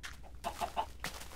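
Minecraft chicken clucking in a few short, clipped bursts, moderately loud, with no talking over it.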